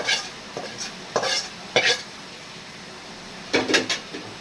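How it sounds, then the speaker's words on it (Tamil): Short bursts of sizzling and stirring clatter come from a pan of tempering spices for kuzhambu curry, with scraping and splashes in separate clusters between quiet gaps. "இப்போ தாளிச்சு விட்டுக்கோ குழம்பு ரெடி"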